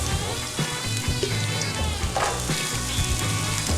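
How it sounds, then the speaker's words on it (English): Garlic sautéing in a hot pan for a Jamaican jerk black bean burger, giving a steady, close frying sizzle that continues throughout with no talking. "you saute the garlic first just for that flavor to come up some more"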